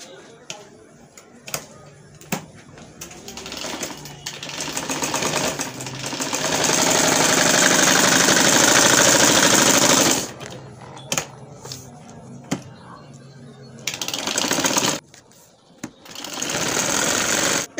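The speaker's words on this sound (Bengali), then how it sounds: "আমি সেলাইটা করে দেখাচ্ছি।" Sewing machine stitching the neckline of a kameez, running in several bursts of varying length with a long steady run in the middle, close and loud, with pauses and handling noises between runs.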